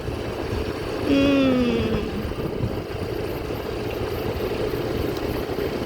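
A vehicle engine drones steadily while riding at night on the road from Aranthangi to Pudukkottai at around 30 km/h, with continuous road and wind rumble and a brief falling whine early on.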